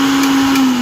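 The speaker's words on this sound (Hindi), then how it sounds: "ये देखो बहुत ही बढ़िया और कंप्लीट चलने लगा हमारा मिक्सी" An electric mixer grinder runs steadily after its power wire was replaced, a loud, even motor whine holding a constant pitch throughout with no speech.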